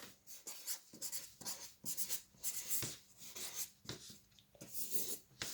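A pen scratches across paper in short, quiet, close strokes, letters written one after another in irregular bursts with brief pauses between them.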